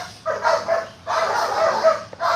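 A dog in bite work training, barking in loud, close bursts with short pauses between, two main volleys and a final bark.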